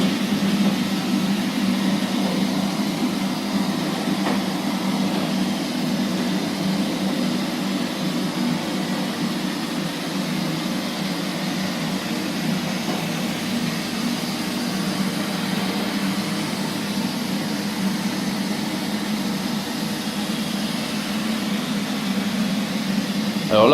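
A Neato Botvac XV robot vacuum cleaner runs with a steady, even whirring hum and faint brushing, continuous and moderately quiet throughout with no talking.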